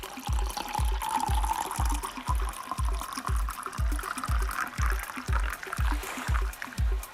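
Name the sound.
pouring a drink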